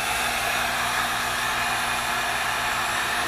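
A heat gun runs as it warms an epoxy-coated electronic speed controller, a close, steady blowing hiss with an even hum and no break in the sound.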